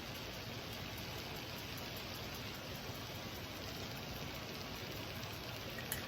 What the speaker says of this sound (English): Can y'all hear that rain? It is raining some kind of bad out there.